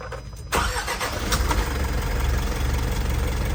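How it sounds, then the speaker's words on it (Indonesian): An Isuzu Elf truck's diesel engine cranks and catches after a brief quiet moment, then settles into a loud, steady idle that runs close by to the end. "Selanjutnya kita nyalakan untuk mesinnya."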